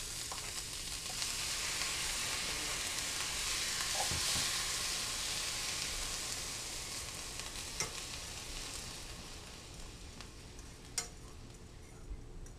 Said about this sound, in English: I am right now sauteing some onions and garlic for the meatballs